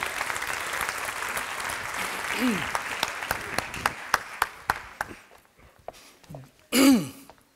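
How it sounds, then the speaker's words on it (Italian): Audience applause at an archaeology lecture event, thinning from a full wash of clapping into scattered individual claps, with a voice briefly heard near the end. "vorrei ringraziare il professor Brizzi virtualmente con un applauso"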